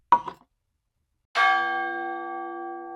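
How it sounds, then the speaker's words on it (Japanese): A ship's bell is struck once after a brief knocking, its clear metallic tone ringing out loud and then sustaining with a long, slowly fading hum. "あなたは30分ごとに鐘を打ち祈りを唱えるだけ。"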